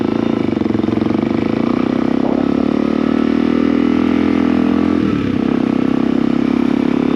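A motorcycle engine runs steadily and loudly close by while riding out of a mountain town, a constant droning rumble with slight shifts in pitch and no voices.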